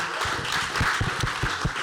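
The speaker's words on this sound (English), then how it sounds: "Y'all clap it up for all our panelists right now." A small audience at a panel event at an art museum claps for the panelists, producing short, loud, uneven clapping with a few distinct close hand claps over a brief moment.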